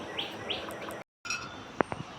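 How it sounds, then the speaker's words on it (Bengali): An Asian koel, a type of cuckoo, calls outdoors in the rainy season: two short arched notes, then a few sharp brief calls, moderately distant over a steady hiss. "এখন এখানে কোকিল ডাকে সারাক্ষণ"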